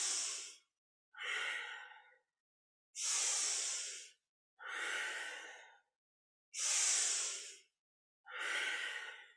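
Deep, slow breathing during a kundalini yoga kriya for digestion: six long, airy breaths alternating inhale and exhale in a steady rhythm, close and soft, with silent gaps between them.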